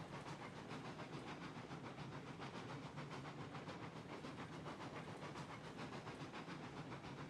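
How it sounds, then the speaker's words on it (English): A Cooke 2-8-0 steam locomotive hauling a train in the railroad game Railroads Online, giving a steady wash of hissing steam and rolling rumble with soft, fast chuffs running evenly through all seven seconds, no talk. "Not as dramatic on the chuffs as I expected."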